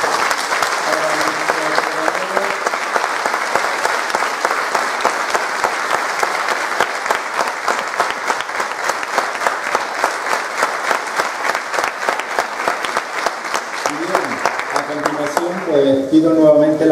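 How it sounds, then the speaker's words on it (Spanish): Steady, dense audience applause at the reading of the San Juan festival proclamation in Puntallana on La Palma, lasting the whole stretch, with voices talking under it at the start and as it fades at the end. "Así que un fuerte aplauso nuevamente."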